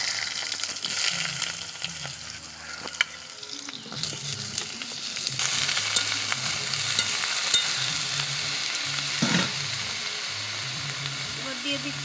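Chopped eggplant for begun ghonto fries with black cumin seeds in a pan, a continuous sizzle with scraping stir strokes and spatula clicks, close and fairly quiet.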